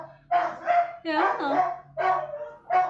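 Several dogs bark in short repeated bursts, loud and close, with a few yips between volleys, while a person speaks briefly nearby.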